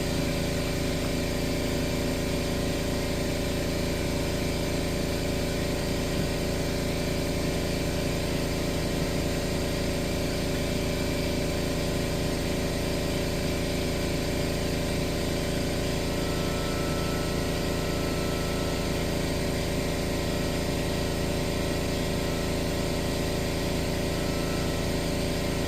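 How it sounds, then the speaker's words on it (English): An air compressor runs steadily while pumping up for pneumatic stapling, a constant motor hum with a fast rhythmic thumping pulse that holds unchanged throughout, with no one talking. "My compressor is pumping up"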